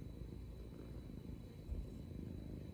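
A cat purrs close to the microphone, a soft steady low rumble continuing throughout with no other sounds.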